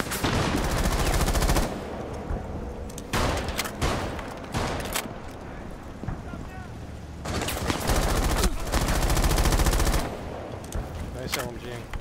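Light machine gun fire in Rainbow Six Siege during a Terrorist Hunt match, long sustained bursts rattling loudly near the start and again later, separated by scattered single shots and quieter stretches.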